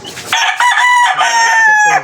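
A gamecock rooster crows loudly and close up in one long, strained call lasting about two seconds, with nothing else competing with it.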